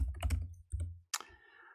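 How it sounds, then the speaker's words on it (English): Fast, uneven typing on a computer keyboard, a few quick bursts of close, crisp key clicks separated by short pauses. "I'm having trouble typing today."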